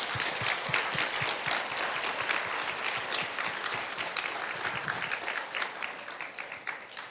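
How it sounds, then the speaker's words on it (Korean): A church congregation applauds together at a Friday special worship service, a dense, steady wash of many hands clapping that holds loud and even throughout, with no talking over it. "다시 한번 감사 박수 하겠습니다."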